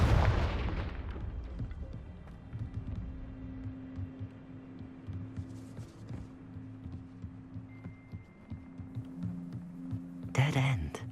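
A deep booming blast from the Confringo spell in Hogwarts Legacy opens the clip, then a low rumbling hum and scattered thuds follow, with a brief burst of sound near the end.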